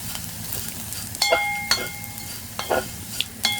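Pointed gourd peels frying in a pan, a steady low sizzle with a few sharp clinks and scrapes of a utensil stirring, close by and with no talk.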